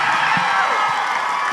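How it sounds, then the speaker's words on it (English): An audience at Covenant University applauds and cheers a speaker, a loud, dense and continuous wash of clapping and shouts with no pauses. "a loud round of applause for Dr. Akin Akinpelu"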